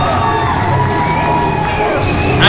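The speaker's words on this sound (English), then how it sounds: "This crowd is going wild for this man right here." A packed wrestling crowd cheers wildly at a live PWF event, a loud continuous roar of shouting and whooping voices with chanting tones, rising at the very end.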